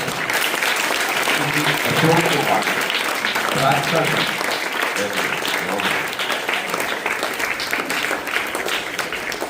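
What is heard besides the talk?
loud applause for the school captain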